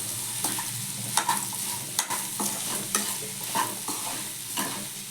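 Potatoes and green peas frying in oil are stirred in a pan with salt, as a spatula scrapes and knocks in an uneven rhythm over a close, continuous sizzle, with no voices.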